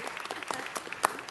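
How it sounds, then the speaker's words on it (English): Audience at a city council meeting clapping briefly, a short patter of scattered handclaps with a couple of sharper claps near the end, no talking over it. "Let's give her a round of applause."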